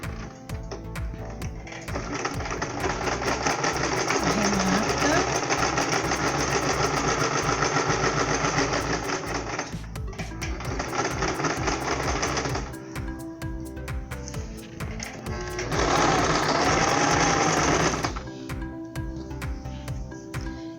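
A sewing machine runs steadily while stitching a straight seam along the edge of a sleeved blanket, with three long bursts of motor hum and needle clatter separated by brief pauses, close and loud with no talking.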